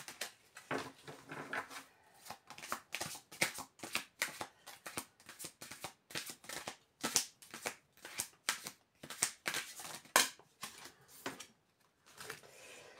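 Tarot cards are shuffled and drawn by hand, producing a close, fairly quiet run of crisp, rhythmic riffling bursts.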